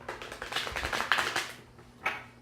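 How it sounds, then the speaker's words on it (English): Tarot cards being shuffled by hand give off quick papery riffles and soft taps in uneven bursts, close and fairly quiet, with a brief louder flick near the end. "I don't know why I'm still shuffling."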